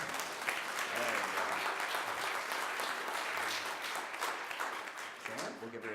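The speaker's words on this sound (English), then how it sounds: "Give my grandma a round of applause." An audience at a talent show applauds warmly, a dense, continuous clapping that fills the room and fades slightly at the end, with a voice faintly heard beneath.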